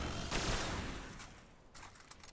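Pocket Infinity fusion rifle firing in the game Destiny: a bright charged blast burst early on, followed by fainter crackling discharge bursts near the end, with no talking.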